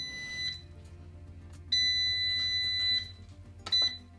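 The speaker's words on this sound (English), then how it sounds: "My timer just went off" Kitchen timer for air fryer jalapeño poppers beeping, a steady high electronic tone in bursts, with a short beep, a long sustained beep, then another short one, clear and close over low background hum.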